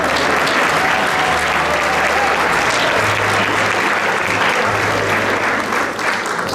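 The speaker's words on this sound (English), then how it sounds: "Let's give a round of applause to everybody that's been involved in that." Loud, sustained applause from the crowd at an Italian community social club's annual dinner dance, a dense steady wash of clapping lasting throughout with no pauses.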